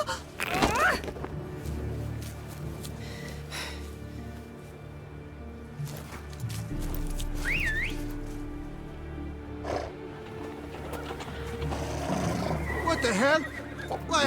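Horses neigh in The Witcher 3 video game, with a rising whinny near the middle and another toward the end over a low rumbling game soundscape and music.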